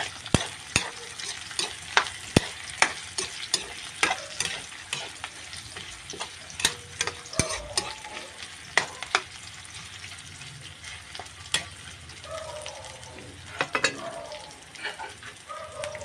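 Ginger frying and being stirred in a pan for a yellowfin fish steak, with steady sizzling and repeated sharp scraping clicks of a utensil against the pan, close and fairly loud, no talk.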